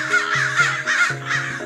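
A group of crows caws loudly and harshly in quick, overlapping calls, several rapid caws close by with no talking, as a story sound effect.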